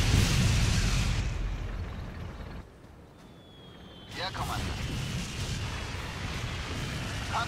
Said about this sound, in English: Unsere Artillerie hat mit dem Beschuss begonnen.